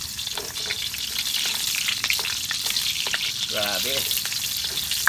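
Onions added to golden-browned garlic frying in a pan while cooking squid adobo, a close steady crackling sizzle with brief clicks of stirring and a short voiced sound partway through.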